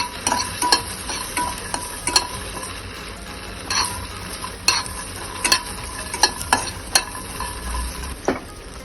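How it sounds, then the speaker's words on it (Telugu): Grated coconut and garlic fry in a pan for a gutthi vankaya curry, a soft sizzle running under frequent scraping, clinking stirs of a spoon against the metal pan, close and without talk. "తర్వాత కొబ్బరి, వెల్లుల్లిపాయ కూడా కొత్త వేయించుకోవాలండి."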